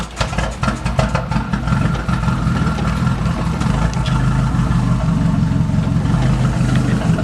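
A Chevy 5.3 V8 swapped into a Nissan D21 pickup with a 3-inch exhaust catches quickly and settles into a loud, steady, deep idle close by, running unbroken to the end.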